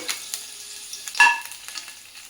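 Garlic and onion fry in hot oil in a home kitchen while a utensil stirs the pan. A soft, steady sizzle runs throughout, and one sharper scrape and hiss comes near the middle, close and moderately loud with no talking.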